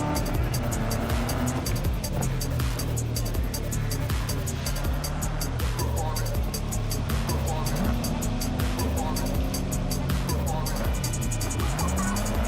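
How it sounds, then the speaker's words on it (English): A stolen Kang Tao car drives in Cyberpunk 2077, its engine droning steadily with tire squeals and shifting revs throughout, loud and close, while someone talks over it. "It's a Kang Tao car."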